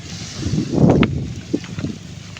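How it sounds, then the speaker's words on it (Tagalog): Low rumbling wash of sea water near the shore, with wind buffeting the microphone and a few soft splashes. "yan ganito yung dagat sa amin"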